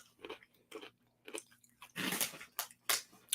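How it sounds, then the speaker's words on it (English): Someone eats hot fries snacks from H-Mart close to the mic with several crisp bites, then crunching and chewing in an uneven rhythm, with some quiet gaps between the crunches. "And Spike just put the whole big bunch in his mouth."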